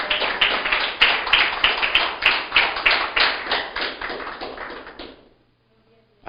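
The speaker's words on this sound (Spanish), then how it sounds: "Aplauda al Señor" Congregation clapping at a church sermon, a loud, rhythmic volley of hands striking in steady beats about twice a second, fading out after about five seconds into near silence.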